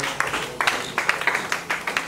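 Scattered clapping from an audience welcoming a speaker at a talk, sparse rhythmic claps in a thin, close pattern over a brief stretch.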